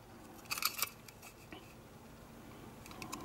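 Scissors snip through the speaker wires inside a Tiger Electronics Furby, a quick pair of crisp close cuts followed by faint handling clicks, quiet overall with no talking.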